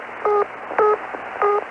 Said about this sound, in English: In Luxembourg, you'll hear this tone.